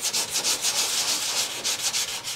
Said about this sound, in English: This is about a 220 grit sandpaper.